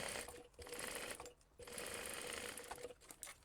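A sewing machine stitching a row over a flattened seam on a crossbody bag, a continuous close whirring run that pauses briefly twice before resuming.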